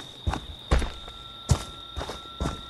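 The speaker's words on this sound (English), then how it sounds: "I can hear his footsteps." Heavy footsteps of the killer in Friday the 13th: The Game, five evenly spaced thudding steps about half a second apart over a steady electronic hum, fairly close with no talk.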